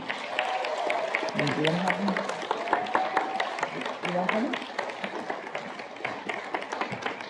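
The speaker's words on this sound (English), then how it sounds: "please give another round of applause for the class of 2022" A crowd applauds the class of 2022 at a spring HiSET graduation ceremony, with scattered, uneven clapping and cheering voices running throughout at moderate loudness.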